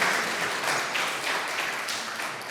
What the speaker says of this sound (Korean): 우리 박수 한번 주실래요?